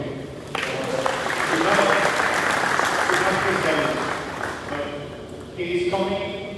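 An audience at a coaching presentation applauds steadily for several seconds, with someone talking over the clapping and music-like tones near the end.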